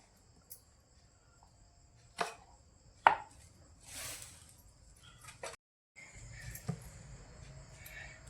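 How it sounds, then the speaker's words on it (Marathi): An onion is cut finely with a knife on a board for mutton biryani, giving a handful of sharp, spaced chops against a quiet kitchen background with a low hum. "एक कांदा बारीक कापायचा आहे"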